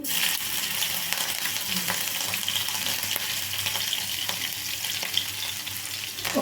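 Green chilies and cumin seeds frying in hot oil for an egg puff filling, a steady close crackling sizzle with bursts of spitting and stirring throughout, no talk.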